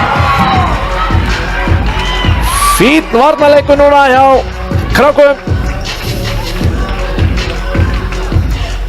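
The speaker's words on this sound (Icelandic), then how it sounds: "Áhorfendur að verða brjálaðir hérna" Spectators at an Icelandic volleyball cup match, KA Krákur against Þróttur N., roar and cheer loudly in a hall while a commentator talks over the crowd throughout, with sharp whistles and shouts rising above the noise.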